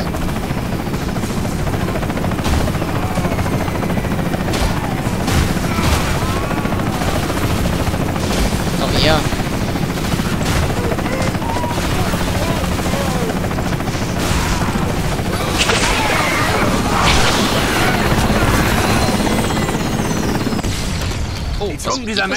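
A helicopter being brought down in the video game Bulletstorm drones under constant loud gunfire and booming explosions in a dense battle mix, with someone talking over part of it.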